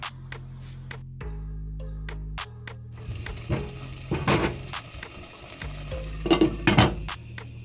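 Brinjal curry gravy stirred in a pan, with a low burner hum, soft bubbling and sizzling, and irregular scrapes and clinks of a spoon against the metal that grow louder toward the end.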